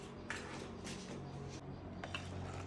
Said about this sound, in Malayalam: ഇനി നമുക്ക് സ്പൂൺ കൊണ്ട് മിക്സ് ചെയ്യാം.